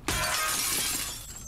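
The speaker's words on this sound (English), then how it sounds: "Can I throw a bottle right here?" A thrown glass bottle shatters in a video game, a single loud crash of breaking glass with a bright tinkling tail that fades over about a second and a half.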